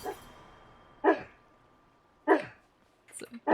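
Shoal the dog woofs softly in his sleep while dreaming, giving three muffled, separate low woofs spaced about a second apart, close by and fairly quiet, with a faint electronic hum underneath.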